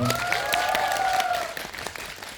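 A packed cinema audience claps loudly and continuously for the director and cast at a Q&A for the film 운수 오진 날; a voice is briefly heard over the start, and the applause thins slightly toward the end.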